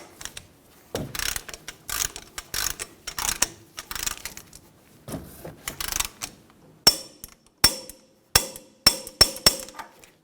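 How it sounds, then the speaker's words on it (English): A torque wrench tightens a ball joint castle nut on a 2005-2015 Toyota Tacoma: a run of sharp metallic ratcheting clicks in uneven bursts, closer and louder near the end, with no talking. "Torque the ball joint nut to 103 foot-pounds."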